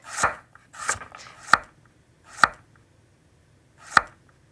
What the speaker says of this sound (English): I like to start with my carrots because they take longest to cook. So I'll just finely dice these.